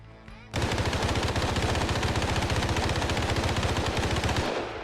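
In the video game Arma Reforger, a PPSh submachine gun fires one long, rapid automatic burst lasting about four seconds after a brief quiet moment, loud and close, with no talking.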